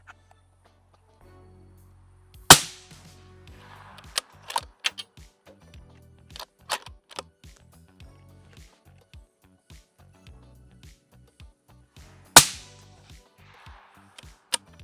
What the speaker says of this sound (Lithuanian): dar 3 šūviai